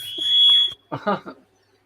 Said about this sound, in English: hopefully there's no fire. Hopefully it's a false alarm.